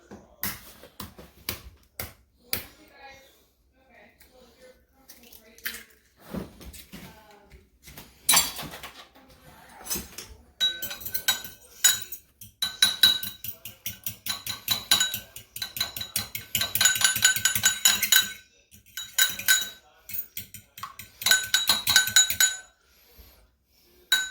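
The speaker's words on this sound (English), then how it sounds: "First, you have to scramble the egg." An egg is scrambled in a bowl for French toast, a fork or whisk clinking against the dish in quick rhythmic bursts. Short pauses break up the beating, and it is heard fairly close with no talking.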